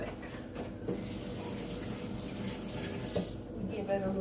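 A kitchen tap runs steadily while hands are washed under it, a continuous close hiss of water with faint splashing and no speech.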